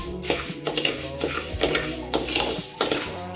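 Panjiri ingredients roasting in a pan, with a metal spoon scraping and tapping against the pan in an uneven rhythm of clinks and scrapes, close and fairly loud, with faint background noise.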